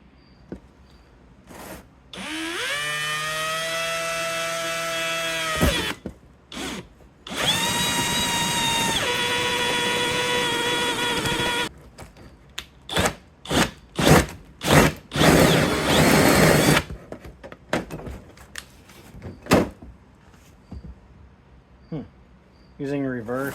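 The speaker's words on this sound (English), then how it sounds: "And now I can drill it." Power drill driving a hole saw through an exhaust gasket, loud whining bursts of cutting in two long runs, then a string of short trigger pulses and a rougher reverse cut, fading to quiet.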